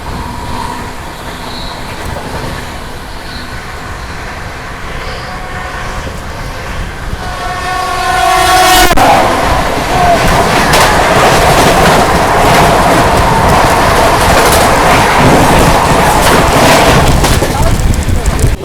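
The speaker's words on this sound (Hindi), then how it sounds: "सामने से आ रही है क्रॉसिंग के लिए हावड़ा राजधानी एक्सप्रेस" An oncoming Howrah Rajdhani Express passes on the crossing track beside a moving train running near 130, a horn blast sounding just before a loud, sustained roar of wagons rushing past close by.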